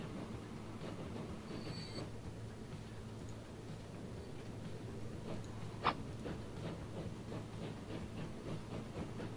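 A slow freight train in Transport Fever 2 rolls along at about 20 per hour, giving a steady low rumble with faint rhythmic clicking of wheels over rail joints and one brief sharp tick midway. No one talks.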